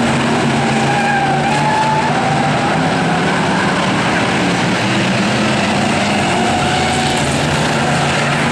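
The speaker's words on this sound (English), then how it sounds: "now Halsey goes for a wild spin in the dust in turn number 2" An 8-cylinder enduro race car spinning out in the dust in turn two at Riverhead Raceway, a loud, constant roar of engines with skidding rumble, heard from a distance amid a busy field of cars.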